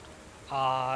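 Soft rain ambience hisses in the background of a tabletop RPG session. Halfway through, a voice comes in over the steady patter.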